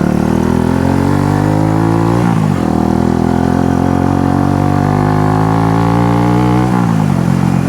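Loud, close engine of a refreshed Honda CB125 cafe racer motorcycle revving steadily, pitch holding high with two brief dips between sustained bursts, no talk.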